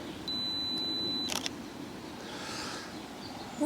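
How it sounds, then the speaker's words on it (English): A Fujifilm X-T2 beeps steadily on its two-second self-timer, a thin high tone that cuts off before a quick double shutter click, outdoors with a soft hiss of ambience afterward. "As I said, 2-second timer, take the shot."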